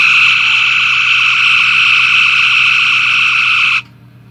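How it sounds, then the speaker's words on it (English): A Star Trek phaser effect from an Enterprise model toy sounds as one sustained, loud, bright electronic whine that holds steady for several seconds and then cuts off abruptly. "So we've got the phaser."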